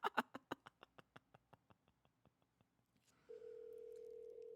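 A call being placed over Skype during a live radio broadcast: a run of evenly spaced short connecting beeps fading away, then a steady sustained ringing tone, heard alone without talk.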